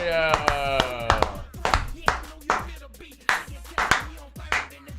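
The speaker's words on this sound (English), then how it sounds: "I love a good loud clap." Loud hand claps ring out one after another at an uneven rhythm, sharp and close, with voices talking in between.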